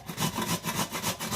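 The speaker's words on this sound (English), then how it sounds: "bust out the box grater, give it a little rinse, and we will grate the potatoes" Potatoes grated on the large side of a box grater, rhythmic rasping strokes about every fifth of a second, close and fairly loud with no talk.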